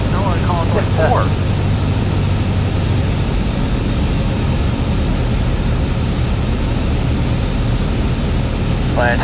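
A Cessna Skyhawk's engine drones steadily in flight at night, a loud constant low hum filling the cabin, with brief radio chirps near the start and end.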